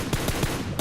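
Gunfire in a PUBG Mobile esports match, a quick burst of four or five loud, close shots spaced evenly in under a second, with no talk over it.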